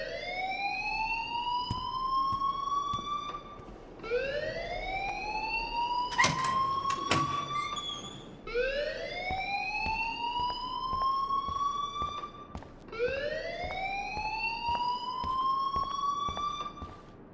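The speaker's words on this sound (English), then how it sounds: "please turn off that alarm since that's your job" A school alarm blares in the video game Life is Strange, four loud rising electronic sweeps that repeat every four seconds, with a brief sharp clatter midway and no voices.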